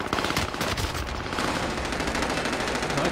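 Rapid automatic gunfire in the Modern Warfare 2 beta video game, dense continuous bursts of shots, loud and close throughout with no pauses.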